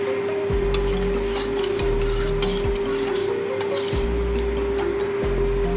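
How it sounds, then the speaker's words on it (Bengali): Black cumin seeds drop into hot mustard oil in a pan, giving a steady sizzle with a constant hum underneath and a few light clinks and low thumps. "তেল গরম হয়ে গেছে, দিয়ে দেবো সামান্য কালো জিরে।"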